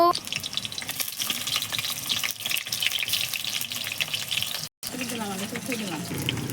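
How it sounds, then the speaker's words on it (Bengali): Potatoes fry in oil with a continuous close sizzle and bubbling, mixed with clattering and a watery gush, and a short dropout near the end. "আলু ভাজা হচ্ছে"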